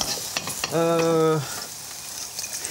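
Onion stir-frying in a wok gives a steady, faint sizzling hiss throughout, briefly overlaid by a short sustained tonal sound partway through.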